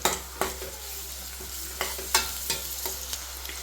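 Ginger garlic paste frying in hot oil for a dhaba-style chicken curry, with a soft continuous sizzle and repeated spoon scrapes and taps as it is stirred, close and fairly quiet.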